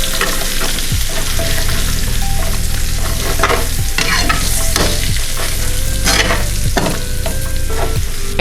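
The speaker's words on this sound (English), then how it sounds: "We're going to give it a nice mix." Sautéed oxtail seasoned with oregano, thyme, salt, pepper and cayenne being mixed by hand, loud wet stirring and scraping with repeated sloshing strokes over a faint sizzle, close and without speech.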